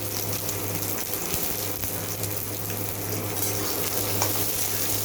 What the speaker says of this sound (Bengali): পেঁয়াজটা কিছুক্ষণ ভেজে নেব।